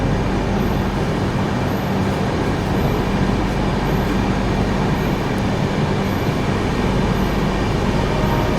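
Tirupati–Puri Express, an LHB-coach train, rolls out of Singarayakonda station with a loud, steady roar of wheels and carriage rumble that holds constant the whole time, no voices.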